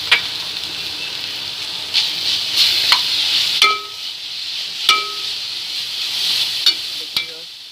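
Finely chopped onions and green chilies sauté in a pan with a steady, bright sizzle, broken by several sharp clinks of a spoon stirring against the metal, close and fairly loud.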